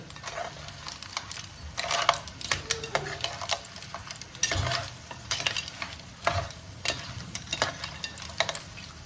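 Clams being stirred and sautéed in a pan in a home kitchen, with repeated scraping stirs and clinks of shells over a steady background hiss.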